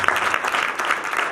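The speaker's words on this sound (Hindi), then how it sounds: "इनके लिए जोरदार तालियां जाए" An audience at a church gathering gives a short, steady burst of applause, a dense wash of many hands clapping together at moderate loudness.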